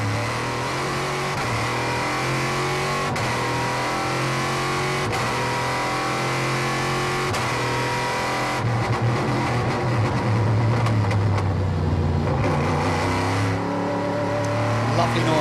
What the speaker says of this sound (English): Let's listen to the engine noise a little bit in the front engine Corvette with its deeper rumble.